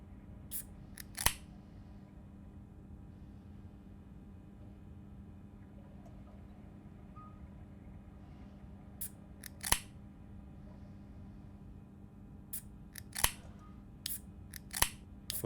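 Quick, sharp mouse clicks come in small bursts against a low steady hum: a pair early, then scattered clusters near the end, fairly close but quiet.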